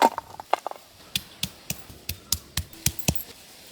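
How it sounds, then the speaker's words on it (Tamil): Ginger, garlic, shallots and green chillies pounded in a kitchen, heard as a series of about a dozen sharp, close thuds at a fairly even pace, with a few quicker light taps at the start and no talking. "இஞ்சி, பூண்டு இது எல்லாத்தையுமே இடிச்சு எடுத்துக்கலாம்."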